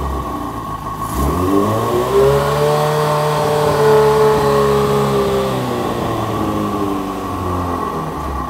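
A carburetted engine runs close by after a carburetor adjustment, holding a slightly high idle with its pitch rising and falling gently in a steady, continuous hum.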